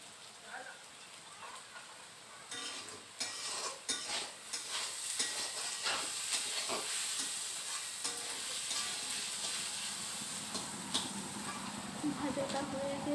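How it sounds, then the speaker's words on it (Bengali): Potatoes, carrots and bottle gourd peel frying in a pan, a quiet start giving way to loud, close sizzling with irregular stirring clatters and a steady spattering hiss, with speech under it. "এই যে আলু, গাজর, লাউয়ের চোষা ভাজা করব।"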